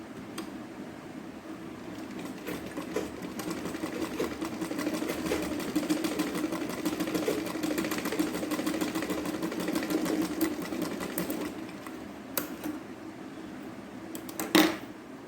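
A sewing machine stitches thick blouse cloth in a long, steady whir of rapid stitching, moderately quiet, with a few brief clicks and a sharp knock near the end.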